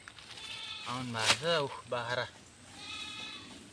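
A bleating animal calls out a few times with wavering cries, close by, mixed with people talking outdoors.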